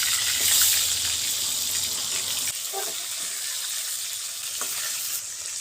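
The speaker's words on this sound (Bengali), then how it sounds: "মাছগুলো আমি ভালো করে হলুদের গুঁড়া, ঝালের গুঁড়া ও লবণ দিয়ে মেখে নিয়ে ভেজে নিচ্ছি" Pangas fish pieces coated in turmeric, chili powder and salt sizzle steadily in hot oil, a dense continuous frying hiss at close range with brief spatters, no voices.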